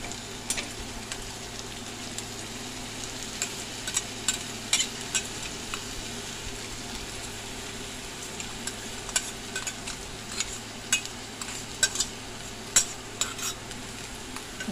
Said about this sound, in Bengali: এটা ভালো করে নেড়ে চেড়ে তারপরে আলু সিদ্ধ দিয়ে, যে আলু সিদ্ধ করে রেখেছি, ভালো করে কষিয়ে নেওয়া হবে।